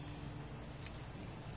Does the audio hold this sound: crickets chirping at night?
yes